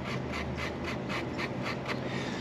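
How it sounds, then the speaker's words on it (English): Corrosion is scrubbed off the top of a Fiat 124 distributor rotor, making close, steady rasping rub strokes in an even rhythm, roughly eight passes, with no talking. "I'm actually cleaning off the top of the rotor"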